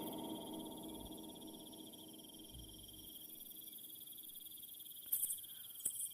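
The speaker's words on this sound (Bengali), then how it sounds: "বাইরে ঝিঝি পোকার ডাকটা এত তীক্ষ্ণ যেন ঘরের ভিতর চলে এসেছে।" Crickets chirp steadily through a quiet night, a thin, piercing, continuous trill held at an even level for several seconds, with a couple of faint clicks near the end.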